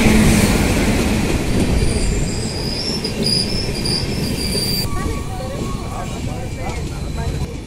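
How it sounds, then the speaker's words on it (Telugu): A passenger train pulls into a station with a sustained high-pitched squeal of wheels on the rails over a steady rumbling roar, loud and close, while people talk in the background. "సరిగ్గా 12:30కి మేము వెళ్ళాల్సిన ట్రైన్ వచ్చింది."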